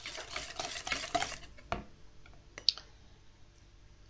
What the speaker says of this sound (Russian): И теперь сюда сахар. И опять взбиваем все это,